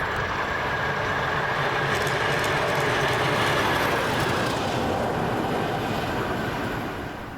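A train passes at Edinburgh Park station in Scotland with a loud, continuous close rumble and wheel roar that holds steady before easing slightly at the end.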